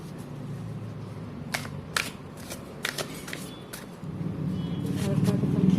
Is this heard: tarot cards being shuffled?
yes